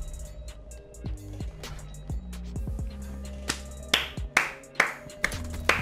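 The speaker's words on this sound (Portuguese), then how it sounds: "Palmas." Sharp in-game claps ring out at irregular intervals over a busy, tonal video game soundtrack, with a few louder smacks near the end.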